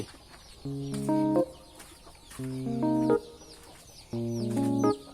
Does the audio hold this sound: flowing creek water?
no